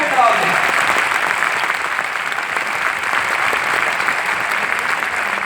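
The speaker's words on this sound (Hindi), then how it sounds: "Come on, give the Lord a great hand clap." Sustained, loud audience applause and hand clapping at a church event, a dense steady roar of many hands for several seconds with voices mixed in.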